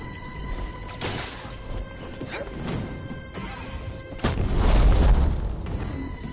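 Explosions from the video game Jedi: Fallen Order, with a sharp crash followed by scattered impacts and then a heavier booming blast, over several seconds of busy game action with no voices.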